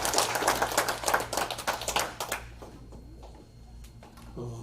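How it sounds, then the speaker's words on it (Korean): A hall audience at a Korean security lecture gives loud, dense applause for about two seconds, then it tapers into scattered claps and quiet room tone, with a faint sound at the very end. "다시 한번 큰 박수 부탁드립니다"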